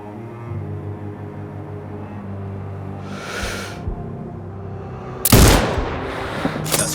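A single sharp sniper rifle shot from Sniper Ghost Warrior Contracts 2 cracks loudly near the end over a low ambient hum, with a brief softer burst of sound earlier.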